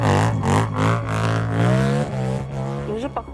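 A motorcycle engine revs loudly and steadily at the start of a sprint race, its harmonic drone rising and falling as it pulls away.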